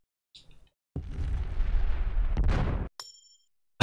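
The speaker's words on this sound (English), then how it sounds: "That explosion sound when it stops." A booming explosion from the original Resident Evil 2 on GameCube bursts in and rumbles loud for about two seconds before cutting off abruptly, followed by faint chimes.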